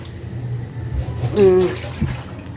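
Tap water runs into a vessel for boiling rice in a home kitchen, a near, steady splashing flow with a brief voice rising over it midway.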